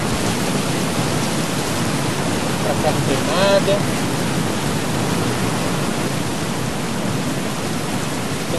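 Steady, dense rain hisses loudly and evenly throughout in Battlefield Hardline, with a voice speaking briefly over it.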